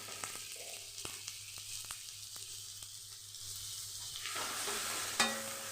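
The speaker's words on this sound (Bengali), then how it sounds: "টমেটোটা খুব ভালো করে আমাকে ভাজতে হবে, নরম করে।" Tomatoes frying with salt in a pan give a steady, close sizzle with faint scraping stirs, ending in a louder crackle and a short sharp clink.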